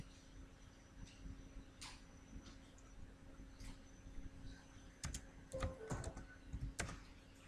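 Light keystrokes tap on a computer keyboard while a router interface name is entered. The typing starts sparse and quiet, then turns into a quicker burst of clicks near the end over a faint steady hum.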